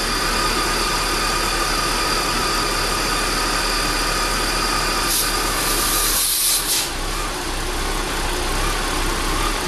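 The engine of a 2001 BMW E39 525 idles steadily up close, a constant mid-pitched hum running throughout with a brief hiss and shift partway through.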